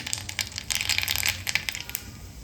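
Mustard seeds tempering in hot oil crackle and pop in rapid, close, bright bursts that thin out toward the end.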